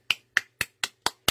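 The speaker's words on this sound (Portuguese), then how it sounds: "olha as palmas para as meninas" A clapping sound effect plays in a live stream: six sharp, evenly spaced claps, about four per second, crisp and isolated with silence between them.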